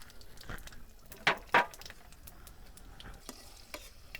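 Panch phoron spices hit hot oil already holding a bay leaf and a dried chili, giving two sharp, short sizzling bursts followed by faint, quiet crackling and stirring.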